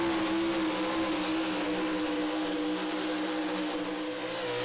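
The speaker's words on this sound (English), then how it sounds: "Standing on that motor, she is not backing off one little bit." A Ford pulling truck held at full throttle on a hot engine block during a pull, its engine a loud, steady, continuous roar with a sustained tonal whine and no letup.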